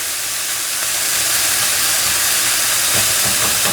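Beef strips for a cheesesteak frying in a hot pan, a loud, continuous broadband hiss and sizzle that stays steady throughout, close up with no talking.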